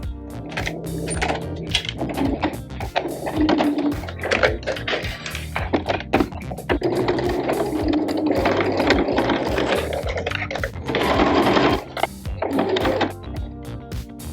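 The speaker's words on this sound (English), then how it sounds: "we're going to do some sewing all around" A sewing machine stitches around a fabric face mask in close, rapid mechanical bursts that start and stop repeatedly as the fabric is turned.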